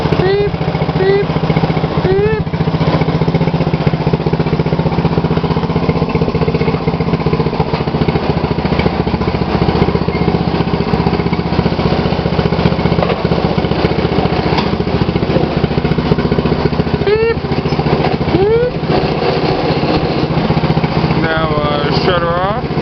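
A 2012 MTD lawn tractor engine running steadily for over twenty seconds, a loud constant drone with small-engine hum, while voices and brief chirping sounds appear over it.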